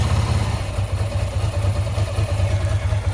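A cold Ducati 907IE motorcycle engine runs at a steady 2000 rpm, a close, even low-pitched throb with a rapid regular pulse and light mechanical clatter, alone.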